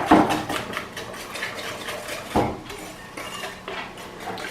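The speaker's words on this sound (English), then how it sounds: "So give it a good whisk, and it should get paler as you do it." A whisk beats blondie batter in a bowl, giving quick repeated rhythmic scrapes and clinks against the bowl, close and steady with a few louder knocks.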